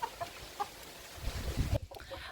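A young Faverolles rooster gives soft, scattered clucks close by, short low calls among faint background noise.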